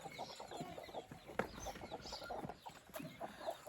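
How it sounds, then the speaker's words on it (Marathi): Several chickens being let out in the morning cluck and chatter nearby in a steady, busy stream, with occasional sharper squawks standing out. "मी सोडतो कोंबड्या"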